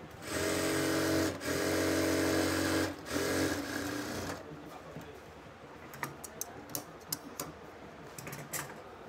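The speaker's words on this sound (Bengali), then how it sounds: "তারপর এটার উপর দিয়ে আমাদের ডবল সেলাই করতে হবে।" A sewing machine double-stitches a seam on a salwar, running in a steady loud whir for about four seconds with brief pauses, then giving way to quieter clicks and fabric handling.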